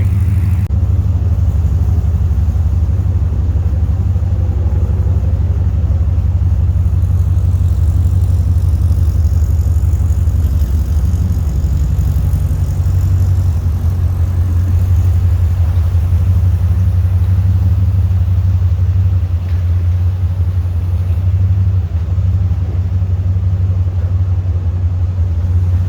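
Project Artemis, a restored car built by KTL Restorations with AC and power steering, drives along with a steady, loud low engine rumble and road drone that holds continuously throughout, with no talking.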